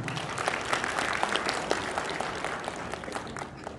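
Hearty audience applause at a general assembly of a Korean clan association, honouring committee member Hwang Jin-a; many hands clap steadily in a hall for several seconds.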